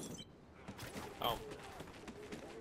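In Call of Duty Ghosts, bursts of rapid gunfire crack faintly in the background while a player talks over them.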